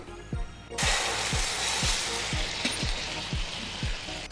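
A loud hiss and sizzle bursts in as sugar syrup is poured into roasted semolina in a hot pan for halwa, then keeps bubbling steadily under a regular ticking beat.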